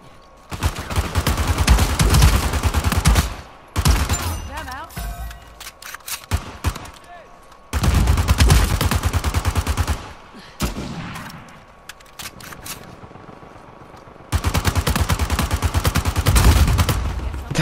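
M4 rifle fire in Uncharted 4 multiplayer, loud close rapid bursts in several long sustained volleys separated by short pauses, with other game sounds and talk between bursts.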